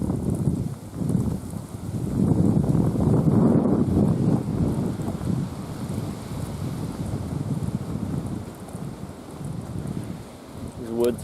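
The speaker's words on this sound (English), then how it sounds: "It's quiet out here, aside from the wind" Steady wind blowing through thick woods near a road, a broad, continuous low rush and rumble buffeting close to the microphone, swelling and easing slightly throughout with no other clear sounds.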